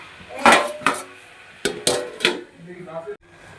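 A pan of bottle gourd greens gets a series of close metallic knocks and clatters as a lid is fitted on, several sharp hits spread over a few seconds.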